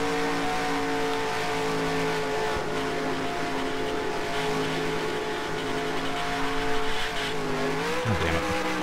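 A race car in the NR2003 racing video game drones at a steady high engine pitch throughout, and near the end the note bends and drops sharply as the back end kicks out into a skid.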